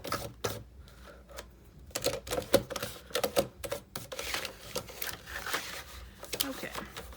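A book page being trimmed for a collage: a series of quick, close crisp snips and paper rustles in irregular rhythm, with talk running over them.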